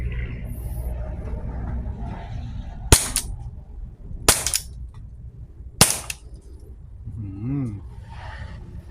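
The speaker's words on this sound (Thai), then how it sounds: "มาดูความแม่นยำแต่ผมยิงใส่ถังดำนะ" Umarex Smith & Wesson M&P9 M2.0 pistol firing paintballs at a barrel: three sharp, loud cracks spaced about a second and a half apart, with someone talking softly between shots.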